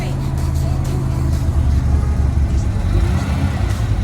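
A Jeep Wrangler's engine drones and revs in a low rumble while stuck off-road, steady and close, while muffled voices speak over it.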